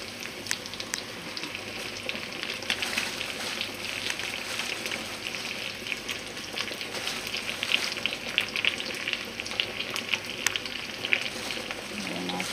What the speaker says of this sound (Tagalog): Ilalagay na natin yung spinach.